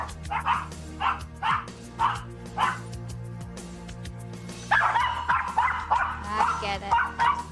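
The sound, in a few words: two Maltese dogs barking, high-pitched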